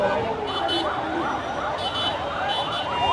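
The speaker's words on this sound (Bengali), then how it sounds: "একটা অ্যাম্বুলেন্স যাচ্ছে এখানে" An ambulance siren wails, sweeping up and down repeatedly, steady and fairly near, held up on a blocked road at Shahbag during a protest, over a dense background of traffic and voices.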